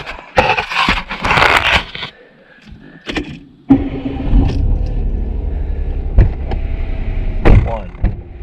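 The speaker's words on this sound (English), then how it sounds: "gonna have to fire the car up" A 2021 Mitsubishi Mirage G4's door clunks and a window motor whines, then the engine turns over and settles into a steady low rumble, close by.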